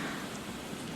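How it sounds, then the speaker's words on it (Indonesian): Steady rain falling outside at night, a soft, even hiss of dense drops with no gaps, faint and constant throughout. "Hujan lagi di luar."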